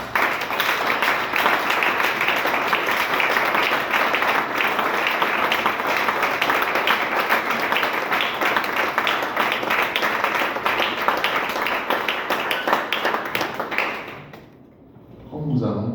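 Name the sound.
congregation applauding the Lord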